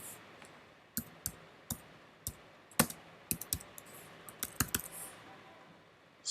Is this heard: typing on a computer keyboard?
yes